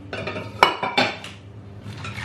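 A spoon scrapes and clinks against a baking dish in a few quick strokes as potatoes are stirred with sauce, close by with no voices.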